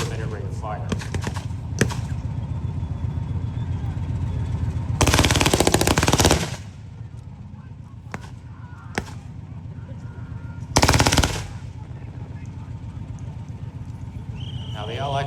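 Machine gun fire at a battle reenactment during a tank weekend at the Canadian Tank Museum in Oshawa, with two loud sustained bursts of rapid fire a few seconds apart over a steady outdoor rumble.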